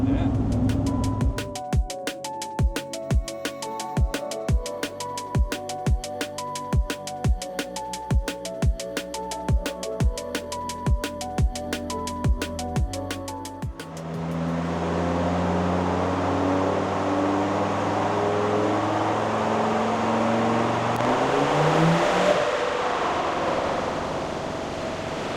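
A Land Rover-style Td5 diesel engine with a GTB450 turbo runs on a dyno, first with a steady beat of regular clicking pulses, then building into a loud, continuous rising engine and turbo roar.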